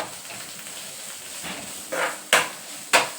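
Okra and onions with turmeric fry over a medium flame while being stirred, a low sizzle broken by three sharp scraping strokes of a spoon against the pan toward the end.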